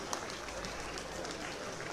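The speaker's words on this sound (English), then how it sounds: "Please, a round of applause." A crowd at the Oba of Benin coronation claps in a steady, dense burst of applause that fills the whole brief moment.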